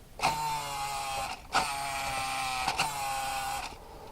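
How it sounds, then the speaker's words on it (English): A small electric motor drives the motor-driven (non-servo) steering of a WPL C14 Hercules Hilux RC rock crawler, whirring in three short bursts with brief clicks between, a high whining buzz close by, no voices. "It's not a conventional servo, it's a motor driven steering."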